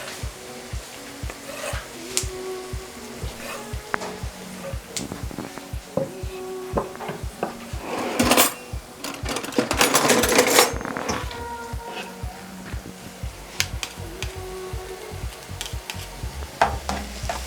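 Garlic frying in a pot for homemade ramen gives a soft, continuous crackle and sizzle, with scraping and stirring noises and a louder burst of hissing midway.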